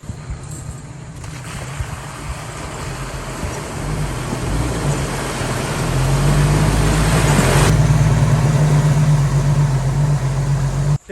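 Off-road vehicle rock crawling in two-wheel drive, unlocked, with a steady engine drone that swells louder partway through and holds a low rumble to the end, alone with no talk.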